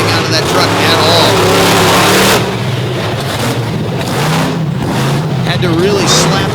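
A truck at a pulling event in Illinois, its engine freshly swapped in and poorly tuned, roars loudly and steadily; the note surges and sags unevenly as it loads up and leans out, with people talking over it.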